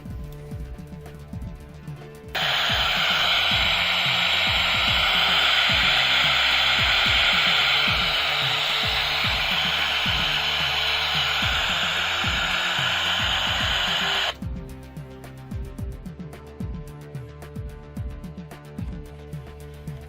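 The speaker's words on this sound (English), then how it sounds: "the unsquelched background noise was there" A loud wash of hissing unsquelched static from a repaired vintage AM walkie-talkie switches on and runs steadily for several seconds before cutting off, with a low rhythmic thumping continuing underneath.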